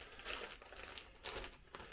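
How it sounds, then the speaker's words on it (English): Crinkly plastic bag rustling from DJI product packaging in short bursts, close and fairly quiet, with a few louder crackles spaced apart. "Plastic bag."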